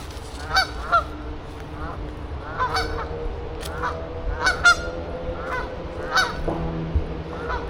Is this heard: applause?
no